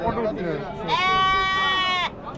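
A goat bleats loudly and close by for about a second, one long wavering cry at the Mecheri goat market near Salem, with traders talking in the background before and after the call.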